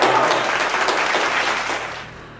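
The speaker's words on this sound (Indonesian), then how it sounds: "Tepuk tangan." An audience breaks into a short burst of applause, dense clapping that holds for about two seconds and then fades away.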